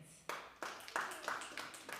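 Light, sparse hand claps from an audience at a spoken-word show, a few soft separate claps spaced out over two seconds, quiet and slightly distant.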